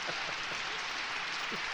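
A canned crowd applause effect on a podcast, a soft, even wash of clapping that stays steady and faint throughout.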